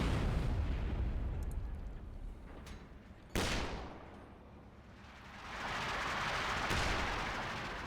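An 81mm mortar team fires in the video game Company of Heroes 2, with a sharp explosion crack midway, a rolling rumble of blasts before it, and a swelling roar of fire and debris after.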